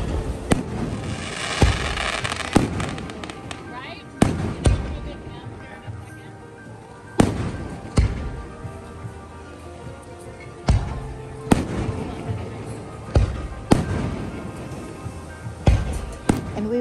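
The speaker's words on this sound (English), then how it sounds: "we had this amazing firework display" Fireworks display over a resort in Cabo San Lucas, with repeated sharp bangs and booming bursts at irregular intervals, some close and loud, trailing into crackle and rumble amid background chatter.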